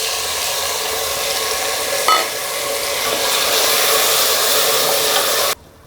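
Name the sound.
tomatoes frying in oil with onions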